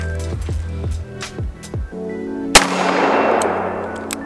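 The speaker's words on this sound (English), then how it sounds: "All right, 6 shots on steel." Chiappa Rhino 60DS revolver fired at steel targets outdoors: a string of sharp, loud shots with ringing metallic hits, then one final crack followed by a lingering reverberant wash.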